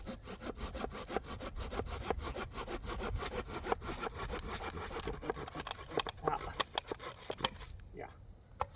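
A hand saw cuts through wood for a homemade raised garden bed, its steady back-and-forth rasping strokes close and continuous before slowing into a few separate strokes near the end, with talk in the background.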